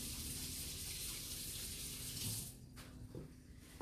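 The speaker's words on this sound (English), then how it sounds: "I'm gonna wash my hands really quick." Hands are washed under a running kitchen tap as steady, close water gushing fills the first couple of seconds, then the flow cuts off, leaving faint drips and splashing.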